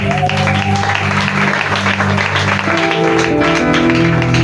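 A congregation acclaims God with applause and cheering, a dense, steady roar of clapping and voices mixed with sustained musical tones, loud and continuous throughout.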